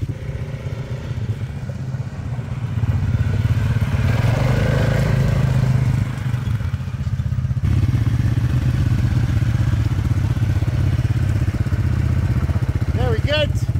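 Quad bike engines rumble steadily on a Garden Route ride, a continuous low droning growl with clattering over rough ground and a voice speaking over the noise.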